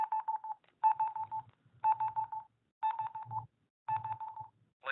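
A talking graphing calculator beeps while plotting a graph, producing five evenly spaced bursts of rapid electronic tone pulses about a second apart, clear and close against silence.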